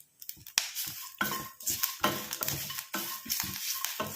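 Grated coconut frying and releasing its oil in a pan, heard as a soft crackling sizzle broken by repeated scraping and stirring clatters of a utensil against the pan, close and fairly quiet with no talking.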